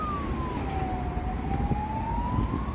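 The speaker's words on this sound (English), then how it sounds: "Ambulance." An ambulance siren wails through city traffic, one long tone sliding down and back up, moderately loud over a steady road rumble with no talk.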